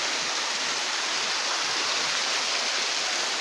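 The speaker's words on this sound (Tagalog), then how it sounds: "So bumabagsak na yung tubig dito" Water falling into a cave beside a river in Narra, Palawan, a steady loud rushing roar that stays even and continuous throughout, with no voices.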